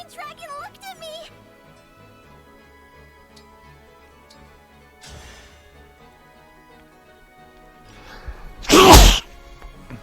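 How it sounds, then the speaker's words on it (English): A single loud, close sneeze bursts out near the end of a quiet stretch of video game play with soft music and ticking sounds. "So I really apologize for sneezing in your ears, guys."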